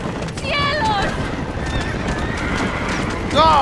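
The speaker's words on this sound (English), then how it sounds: "You got these dumb horses, bro." Horses in the video game Red Dead Redemption whinny loudly near the start and end over a steady rush of galloping hooves, with gunfire-like game noise underneath and people talking.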